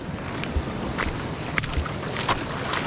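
Choppy sea waves slosh and slap around a small fishing boat at sea, a steady rough wash with wind buffeting the microphone and occasional sharper splashes against the hull.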